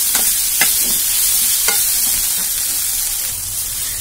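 Onion masala with fresh coriander leaves sizzling in a pan as a spoon scrapes and stirs, steady loud frying hiss with a few sharp clinks of utensil on metal.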